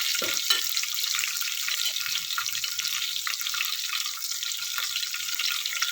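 Garlic and slit green chillies sizzle steadily in hot oil for dal khichdi, a continuous bright frying hiss with a few brief stirring clinks near the start, close and moderately loud with no voices.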